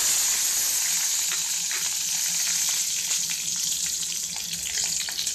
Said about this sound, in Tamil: ஒரு 3 ஏலக்காய் போட்டு தாளித்ததுக்கப்புறமா நம்ம இந்த சின்ன வெங்காயத்தை முதல்ல போட்டுடலாம்.